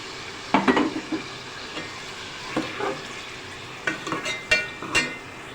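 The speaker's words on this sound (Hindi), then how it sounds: "तीन से 4 मिनट हमने चिकन को फ्राई किया।" Chicken pieces frying in a pan for a chicken curry (salan), with a steady background sizzle broken by several short bursts of scraping and stirring, close and moderately loud, no voices.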